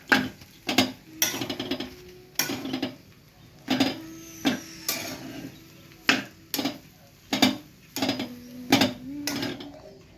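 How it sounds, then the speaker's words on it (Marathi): A utensil stirring and mixing cooked rice for masala pulao in a metal pan, giving about a dozen sharp scraping clinks at an irregular pace, close and clear with no talking. "आता हा शिजवलेला भात टाकला आहे चांगलं एकदम मिक्स करून घेऊया"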